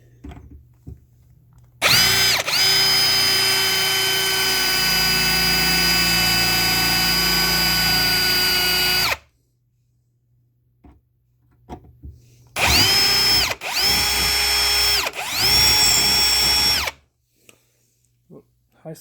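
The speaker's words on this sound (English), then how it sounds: "I'm just going to have to drill those out more" Power drill with a high speed steel bit drilling out rivets on the bracket of a MarinAire 16000 BTU 120 V air conditioner heater, a long loud whining run followed by several shorter bursts separated by pauses.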